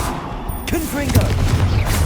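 Booming blast of the Confringo explosive spell in Hogwarts Legacy, a sharp burst followed by rumbling impact and crackling debris over game music, with a second rising hit soon after.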